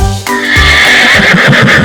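A horse gives a loud, close whinny that rises and then trails into a long, quavering neigh, with no talk over it.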